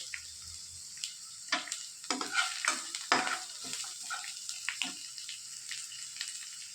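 Onions sautéing lightly in a little oil for egg parotta, a soft sizzle punctuated by repeated scraping stirs, close but fairly quiet, with no voices.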